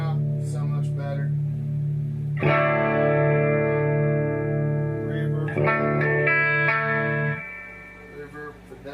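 Electric guitar through a Peavey Valve King VK100 MK1 tube amp with heavy reverb, ringing sustained chords that bloom and trail off in a wash of echo, loud and close, with a fresh strum partway through before fading near the end.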